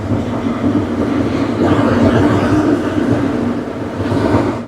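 A train passing nearby, heard as a loud, steady rumbling roar that swells slightly toward the end before cutting off.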